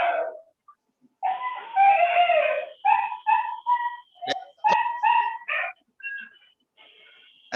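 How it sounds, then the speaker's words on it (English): A dog gives a run of whiny, high-pitched yelps and drawn-out howling cries, fairly close and steady for several seconds, with no speech over it. "I'm getting dog barking."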